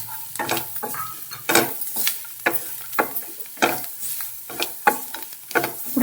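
Coriander and chana dal sizzling in a pan for Rayalaseema guntha ponganalu, a close crackling fry punctuated by repeated rhythmic scraping stirs and clinks of a utensil against the pan, with no talking.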